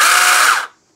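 A 6-inch battery mini chainsaw whirs briefly at high pitch, loud and close, then cuts off abruptly after about two-thirds of a second.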